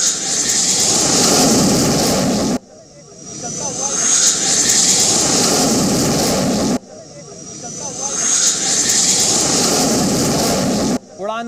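An Indian Air Force Mirage 2000 fighter jet takes off, its loud, roaring jet engine sustained with broadband rush and a rising whine. A voice talks over it, and the roar cuts off abruptly and resumes.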